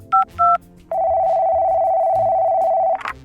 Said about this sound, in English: Activate sat phone. Dial